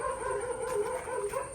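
A dog at a family home in Kochi gives a short, strained burst of whining barks and yips, close and fairly loud, lasting under two seconds.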